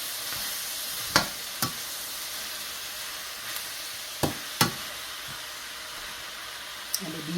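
Tofu and vegetable stir fry sizzles in a pan with a steady low hiss, broken by a few sharp clinks and scrapes of a utensil against the pan.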